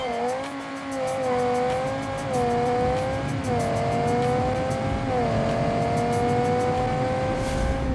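Drag racing car in BeamNG.drive accelerating hard, a loud engine whine rising through the revs with several gear shifts dropping the pitch before it climbs again, heard alone without talk.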